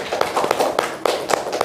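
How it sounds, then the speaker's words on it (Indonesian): Applause from a classroom of students, a burst of claps with sharp, irregular peaks, close and fairly loud, lasting under two seconds with no talking. "Tepuk tangan buat kita semua."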